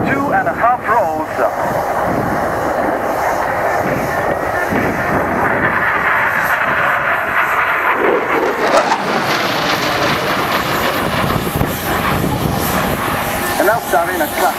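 An aerobatic aircraft flies an inverted run with rolls at an airshow, its engine drone loud and continuous, the pitch shifting as it passes, while a voice talks over it.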